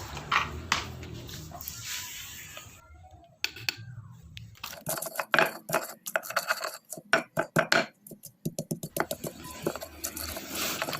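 Spices being ground in a cobek stone mortar for a Javanese cassava-leaf buntil, close-up irregular scraping, rubbing and sharp knocks of stone on stone, in uneven bursts with brief pauses.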